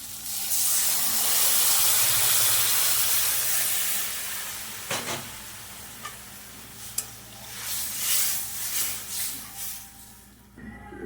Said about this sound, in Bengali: নারকেলের দুধটা দিয়ে দেবো।